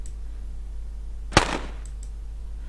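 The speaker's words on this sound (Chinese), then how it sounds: "类似一个鞭炮的音效，这是我自己在网上找的" A firecracker-like sound effect from a watermelon-merging puzzle game: a single sharp, loud crack with a brief rattling tail against a steady low hum.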